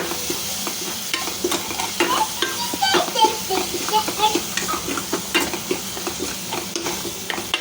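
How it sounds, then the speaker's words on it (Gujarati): A spice paste sizzles and fries in a pan while a spoon stirs it, producing steady crackling with frequent scraping clinks against the metal, close and fairly quiet, with a little speech in the background. "હવે આ પેસ્ટ આગળ જેમ કીધું હતું એમ હવે મિક્સ કરીશું"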